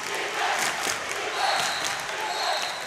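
Loud, steady crowd noise fills a high school basketball gym during a tie game in the final seconds, a continuous wash of voices and cheering with faint sneaker squeaks.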